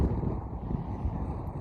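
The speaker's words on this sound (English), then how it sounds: "It's too windy." Steady wind at White Sands National Park buffets the microphone with a continuous low rumble, no voices, throughout the short clip.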